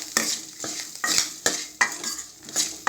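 Garlic and onion sauté in a hot pan as a spoon stirs them in a regular rhythm, about six sharp scraping strokes over a soft continuous sizzle, close up with no voices.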